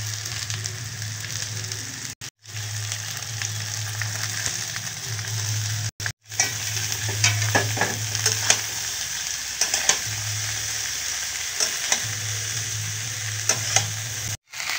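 Cabbage, fried potatoes, onion and ginger-garlic paste sizzle in a pan, a continuous frying hiss broken by brief pauses and scraping stirs, close and loud with no talking.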